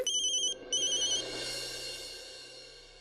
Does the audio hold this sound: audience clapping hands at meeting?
no